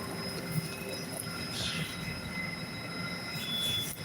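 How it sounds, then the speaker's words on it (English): A Moscow train runs quietly on its rails, with a steady low rumble of wheels and a faint high squeal drifting in and out, continuous and moderately near throughout. "The train is very quiet."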